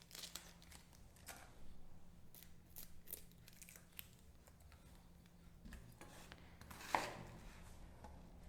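Vegetables are roughly chopped with a knife in a kitchen, giving faint, irregular ticks and taps against a board, with one slightly sharper knock near the end and no voices.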